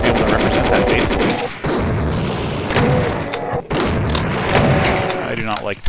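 Explosions and gunfire from Doom's "My House" level boom and thump in quick, loud bursts, packed densely with brief cutouts. People talk over the game sounds.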